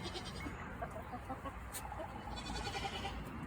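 Goats bleat in a muddy farmyard pen, their calls mixed into a busy, noisy background with no one speaking.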